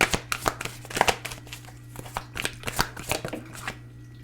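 Tarot cards being shuffled by hand before one more card is drawn, sharp rapid snaps and papery riffles in irregular bursts, close up over a faint steady hum.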